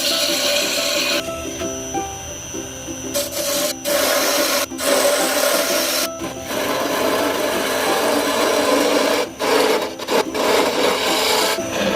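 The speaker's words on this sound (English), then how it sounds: "Hollowing is a process in which we hollow out the inner part of the wood to give it the required" A lathe tool hollows out a goblet turned from ebony and persimmon wood, giving a loud, continuous scraping and rasping with abrupt stops and restarts as the cutter is drawn in and out.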